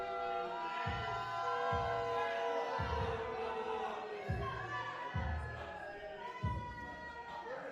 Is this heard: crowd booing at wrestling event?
yes